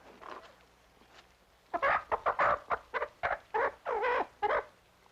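A hen clucks in a quick run of short, bright bursts, close and fairly clear over a quiet background, with a faint earlier murmur before the burst begins.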